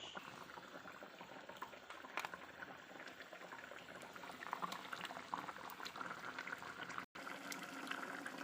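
Eggplant boiling in a pot for an oil-and-chili hilsa fish dish, a steady close bubbling and simmering that runs continuously, with a few faint clicks and a brief dropout near the end.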